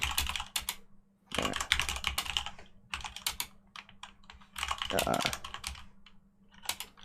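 Loud, rapid typing on a computer keyboard, close to the microphone in bursts of clattering keystrokes with short pauses, while people talk underneath.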